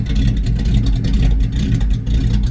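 A 1987 Chevy K5 Blazer truck engine runs close by at a steady, loud idle with a low, even rumble and no talk.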